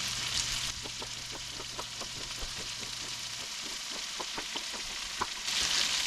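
Walleye fillets frying in butter in a pan give off a steady, close sizzle with soft, regular ticks running through it and brief louder hissing bursts at the start and end, with no talking.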